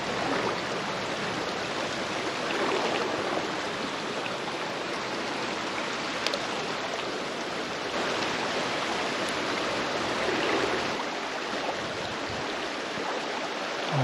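Continuous broadband rush of a flowing stream right beside a highway in April, loud and even throughout with slight swells, no voices.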